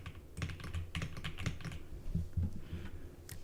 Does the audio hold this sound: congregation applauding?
no